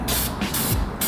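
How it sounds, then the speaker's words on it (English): Automotive enamel paint sprayed from a can onto bare metal on a Subaru BRZ widebody, heard as three close, loud hissing bursts separated by brief pauses. "I have this automotive enamel paint that I'm pretty much just gonna spray on this open metal"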